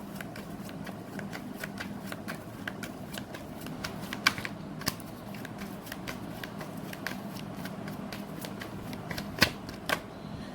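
Tarot cards being shuffled by hand, a quiet continuous run of rapid papery flicks and riffles close by, with no talking.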